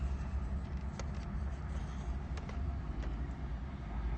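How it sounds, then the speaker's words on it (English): A white SUV pulling up alongside on a street near a McDonald's, a steady low engine rumble and tire noise close by with a few faint clicks and knocks over the drone. "as this white SUV pulled up next to me"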